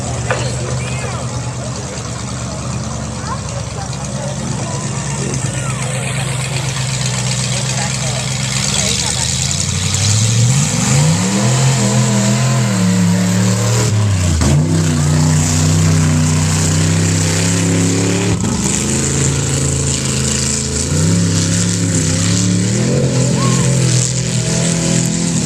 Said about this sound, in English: Jimmy's driving a black Toyota he likes to call Jimmy Rig